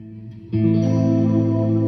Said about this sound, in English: I'm going through the Fender Deluxe reverb patch on my Katana.